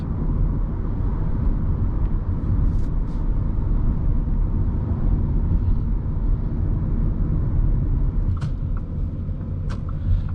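A 2018 Audi A4 S-Line cruising on the road, a steady low engine and tyre rumble with constant road noise throughout, a couple of brief faint higher ticks near the end.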